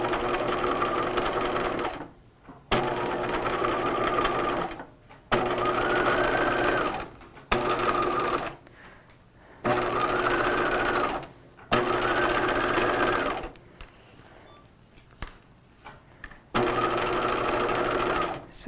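A sewing machine understitches the strap of a 1950s shelf-bust dress, running in several loud, steady bursts of stitching with short pauses between them as the fabric is repositioned.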